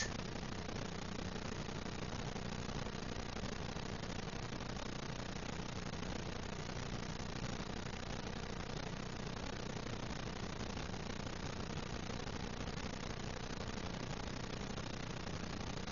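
Race car engines idle together before the start of a downtown street race in a video game, a dense, steady, unbroken rumble that holds at an even level throughout with no talk over it.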